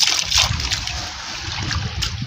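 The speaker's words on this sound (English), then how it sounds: "I'll go ahead to pour in new water here, to pour in clean water" Clean water is poured over beans in a bowl to wash them during food preparation in an African village in Niger, making close, loud splashing and trickling that slows to a gentle dribble.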